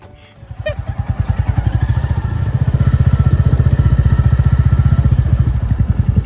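A motorcycle engine starts and settles into a loud, rapid, steady throbbing rumble close by, with no voices.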